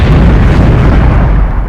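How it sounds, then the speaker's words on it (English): A massive explosion boom overhead in a dramatized audio story, a loud deep roaring rumble that fills the whole short moment and holds near full strength before easing slightly at the end. "The explosion makes the concrete vibrate beneath him."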